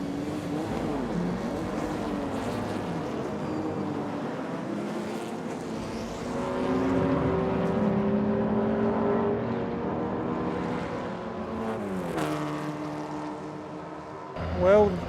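Historic race cars at the Goodwood Revival 2021 meeting, engines droning and revving in a sustained, fairly distant roar that swells and fades as cars pass, with a voice talking over it.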